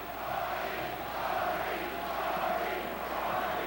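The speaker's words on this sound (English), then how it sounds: "There goes that crowd." Boxing arena crowd roaring in a steady, swelling wash of cheers, dense and continuous throughout with no single voices standing out.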